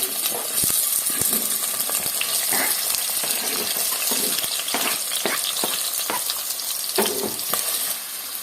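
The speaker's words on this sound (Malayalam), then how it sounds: "എണ്ണ ചൂടാവുമ്പോ നമ്മൾ പച്ചമുളക്, ചെറിയ ഉള്ളിയാണ് കേട്ടോ, സവാളയല്ല ചെറിയ ഉള്ളി എന്ന് എടുക്കുക, കറിവേപ്പില, ഇഞ്ചി, ഇത്രയും കാര്യങ്ങൾ നമുക്ക് എണ്ണയിലോട്ട് ഇട്ട് കൊടുക്കാം" Green chilies, shallots, curry leaves and ginger frying in hot coconut oil for a Kerala beef bone curry, a steady loud sizzle with scattered crackles and stirring clinks, no voices.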